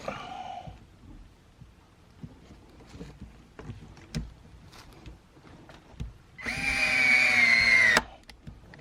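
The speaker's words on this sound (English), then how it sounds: "I think you just use a screwdriver to install this" A power screwdriver drives a screw into a beefy metal outlet box while a washer outlet is installed in a garage. Scattered light knocks come first, then one loud, sustained whirring run of about a second and a half, close by.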